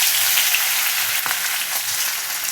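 Garlic dropped into hot oil in a pan for a dry javala (dried shrimp) recipe sizzles loudly and steadily, a continuous crackling fry with no talking.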